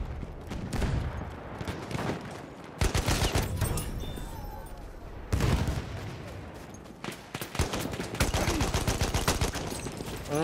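Gunfire in Battlefield V rattles in dense automatic bursts and single shots, loud and continuous with sharp repeated cracks layered over the game's battle noise.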